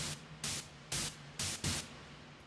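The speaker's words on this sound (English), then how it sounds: "You've got that really interesting white noise here." Bursts of hissing white noise from the master effects of the Heavyocity Mosaic Pluck instrument, four or five short rhythmic swells of static standing out over a quiet background.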